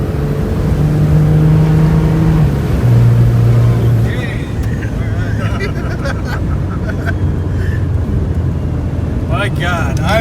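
A 2005 Dodge Ram pickup with a Cummins diesel and upgraded head studs drones steadily from inside the cab on a test drive, the engine hum loud and continuous with faint voices underneath.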